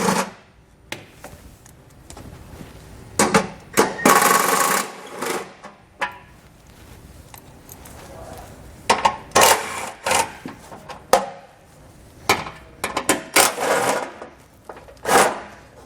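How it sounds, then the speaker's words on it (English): Socket tool working loose 10mm heat shield fasteners under a 2021 Subaru Forester, a series of short sharp clicks and ratcheting bursts, close and fairly loud, separated by brief pauses with no talking. "So I'll grab my socket and pull those out."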